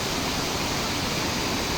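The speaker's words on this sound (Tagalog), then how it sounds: "Natalay Falls." Natalay Falls, a waterfall pouring with a loud, steady, unbroken roar of rushing water.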